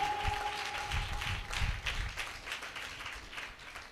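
A church congregation claps during a sermon, with a run of fairly quick, even handclaps that stay moderately soft and steady throughout.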